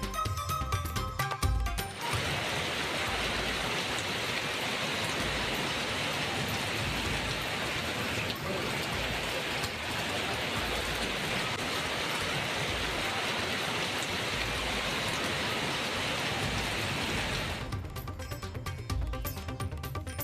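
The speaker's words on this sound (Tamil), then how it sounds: "பந்தலூர் சுற்றுவட்டார பகுதியில் சாரல் மழையுடன் கடும் பனிமூட்டம்." Drizzling rain falls steadily in the Pandalur area amid heavy fog, giving a continuous close hiss that holds evenly for most of the stretch.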